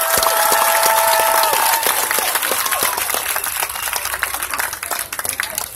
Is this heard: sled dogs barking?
no